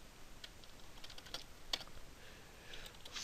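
Keys clatter on a computer keyboard in a short burst of light, close taps at an uneven pace, fairly quiet and without talk.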